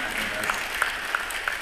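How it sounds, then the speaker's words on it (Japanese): Audience applause at a Japanese ceremony honoring donors after a certificate of appreciation and commemorative gift are presented, a brief steady wash of clapping with a few sharper claps standing out. "もう一度大きな拍手をお送りください。"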